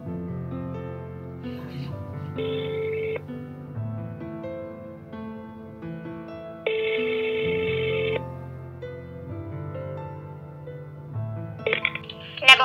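A telephone call being placed: a run of dialing tones is followed by ringing tones, with two or three distinct ring bursts spread across the clip over a steady background and no talk.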